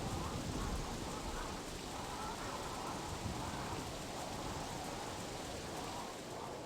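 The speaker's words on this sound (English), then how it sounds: "Storm damaged our ship good." Storm at sea in the video game Sid Meier's Pirates!, heard as steady, dense rain hiss with a low rumbling undertone, continuous and fairly loud throughout with no clear breaks.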